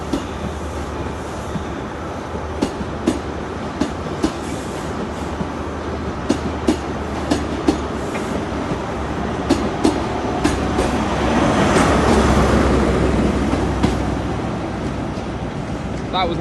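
Trains roll through Exeter St David's station with sharp rhythmic clicks of wheels over rail joints, then a louder rushing swell of a passing train near the end, with no talk.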